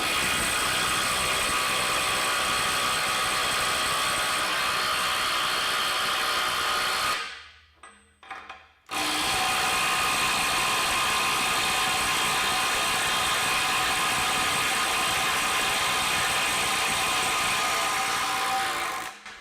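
Continuous loud mechanical hammering and whirring from a compact impact wrench driving a bolt, steady for several seconds, cutting out briefly, then resuming just as loud.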